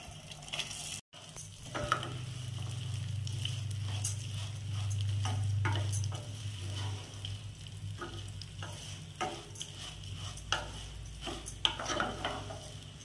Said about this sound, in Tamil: இதுலயே அரிசியை சேர்த்து வறுத்துக்கலாம்.